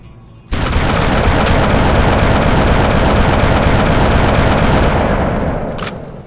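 Gunfire in the truck combat game Hard Truck Apocalypse, a loud sustained barrage of rapid shots and booms that starts abruptly, rolls on for several seconds, then tapers off.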